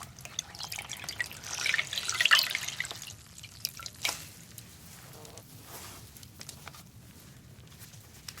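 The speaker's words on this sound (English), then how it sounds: "I have a nice clean cloth and some fresh, cool water." Cool fresh water drips and trickles from a wrung clean cloth into a basin, a brief run of splashing early on and then scattered soft drips, close and gentle in a quiet room, no talking.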